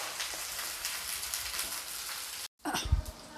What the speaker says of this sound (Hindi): जब तक भिंडी फ्राई हो रहा है